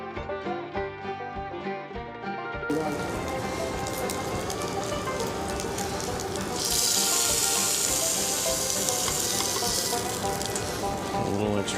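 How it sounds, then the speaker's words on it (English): Steady, close sizzling of catfish in a hot pan, a crackling hiss that grows louder partway through, with music playing faintly at the start. "A little extra sizzle on that last one."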